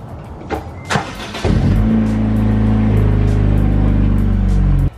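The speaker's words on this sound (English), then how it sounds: "So I'm gonna do a quick cold start and just see how loud it is." A car engine cold-starts in a garage after sitting parked about five days: a brief starter crank, then the engine catches with a loud jump and settles into a steady, droning idle close by, with no talking.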